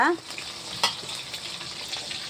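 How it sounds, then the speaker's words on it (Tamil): Fish frying in a pan alongside onion, salt and a cinnamon stick for fish curry, giving a continuous sizzle with a brief louder crackle near the start and one sharp spike partway through. "இங்கே என்ன வெந்துக்கிட்டு இருக்காங்கன்னா சூப்பராக மீன் பொரியலுங்க."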